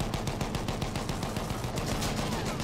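Continuous rapid gunfire in Battlefield 1, with dense, repeated machine-gun bursts rattling in a steady rhythm throughout, fairly distant and muffled, with no speech.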